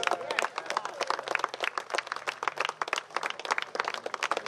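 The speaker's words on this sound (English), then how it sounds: "Do I hear applause?" An audience at a steel pan exhibition and tribute event in Trinidad and Tobago breaks into applause. Dense, lively clapping from many people runs throughout, with a few voices faintly mixed in.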